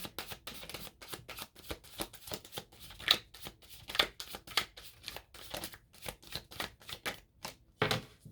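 Tarot cards being shuffled by hand, a steady run of quick papery riffles and taps repeating close up for several seconds with no talking.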